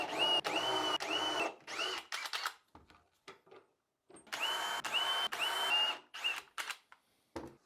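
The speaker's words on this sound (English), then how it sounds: "Using my doweling jig to drill dowel holes in the base frame." A power drill whirs in several short bursts with pauses between, drilling dowel holes through a doweling jig into a dresser base frame, close and fairly loud, a faint clatter in the gaps.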